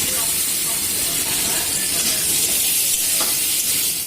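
Ginger garlic paste and onions fry in a hot pan with a steady, loud, dense sizzle and hiss, with no pauses and no voices.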